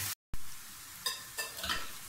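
Onions frying lightly in oil in a pan, a soft steady sizzle with a few brief stirring scrapes near the end.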